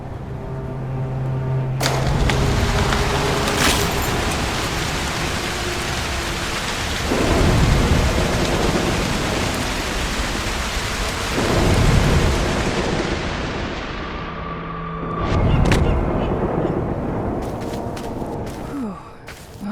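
Thunderstorm in the video game Broken Pieces: heavy steady rain hisses throughout while several deep thunder rumbles roll in one after another, loud and close, with a few faint tonal game sounds between them.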